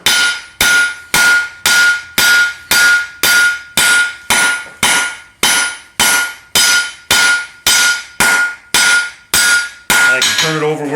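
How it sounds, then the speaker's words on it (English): A hammer strikes a railroad spike knife on an anvil in a steady, loud rhythm of about sixteen evenly spaced ringing blows, then a brief flurry of lighter taps at the end. "Now I like to work out on the far side of the anvil."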